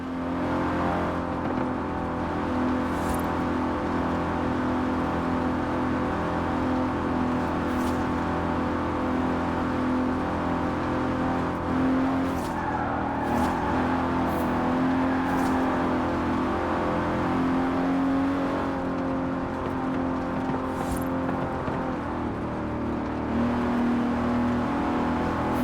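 An Aston Martin DB5 Vantage, a 1960s British grand tourer with side-draft carburetors, drives in Forza Horizon 4. Its engine holds a steady, droning tone close up the whole way through, with small shifts in pitch and no voices.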